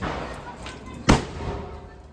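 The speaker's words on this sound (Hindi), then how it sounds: "बड़े बड़े बम फोड़ा" A firecracker bursts during a Tulsi puja (Dev Uthani) celebration, one sharp loud bang near the middle of the clip against background chatter and crowd noise.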